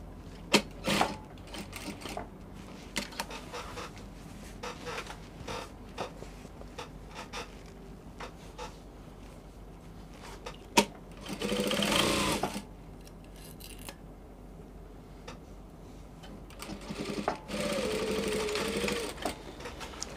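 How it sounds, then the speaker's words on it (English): A sewing machine stitching across a double-folded half-inch hem on a dress, with quiet clicks and handling between two short whirring runs of stitching, close and fairly soft. "you fold 1/2 inch again and then you're going to stitch. You sew across to the other side."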